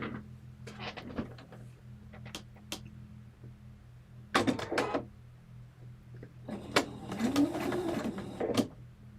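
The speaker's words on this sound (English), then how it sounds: "I will now switch to the sewing machine." A sewing machine runs in short bursts of rapid mechanical stitching, close by, with clicks and handling noises between the runs.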